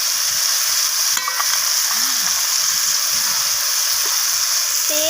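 Cabbage with potato and tomato stir-fried in a pan, giving a steady close sizzle and frying hiss with a few scraping stirs of the spatula, no speech.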